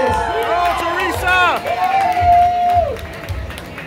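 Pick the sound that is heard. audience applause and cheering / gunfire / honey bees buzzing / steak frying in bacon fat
audience applause and cheering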